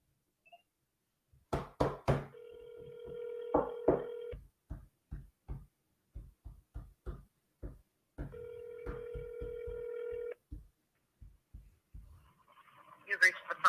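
Two long electronic ring tones on an outgoing telephone call, each lasting about two seconds with a pause between, under near, steady speech from a man waiting for the line to be answered.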